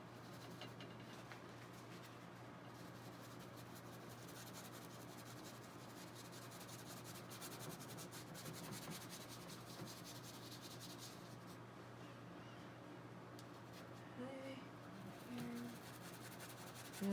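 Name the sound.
brush scrubbing paint onto a surface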